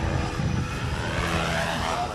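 A radio-controlled BO 105 scale model helicopter flying at a model helicopter meet, its engine and rotor drone steady and fairly loud throughout, with no talk over it.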